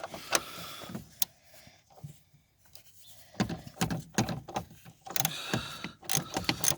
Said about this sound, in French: Donc moi, je vais prendre mon cliquet.